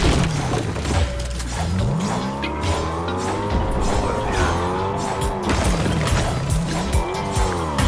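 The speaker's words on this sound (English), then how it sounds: "You're doing a drift contest?" A car in the Fortnite video game drifts continuously with sustained, wavering tire squeals over a loud engine drone. The sound is close and unbroken throughout.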